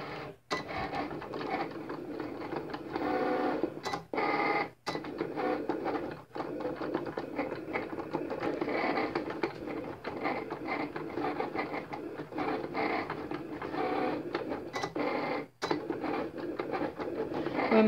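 A Cricut cutting machine working through a monogram design gives a continuous mechanical whirring and clicking, with frequent short stops and starts as the carriage moves.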